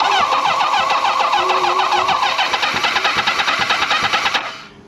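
Forty-year-old motorcycle engine cranking and catching, a loud steady rapid chugging that runs for about four seconds before cutting off abruptly, with no voices.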